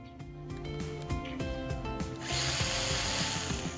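A Stihl GTA 26 battery-powered garden saw whirs with ratcheting mechanical pulses, then its small chain spins up into a louder, steady buzzing hiss in the final seconds, heard close with no talk.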